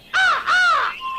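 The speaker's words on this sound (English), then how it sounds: "As the crow opened his beak and started to sing" A crow gives two loud, close, harsh caws in quick succession, followed by a fainter trailing note.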